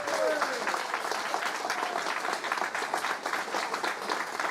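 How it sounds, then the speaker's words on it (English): Convention audience applauding steadily at a live event, dense and continuous clapping throughout with a few voices mixed in. "can we get a round of applause for Meg?"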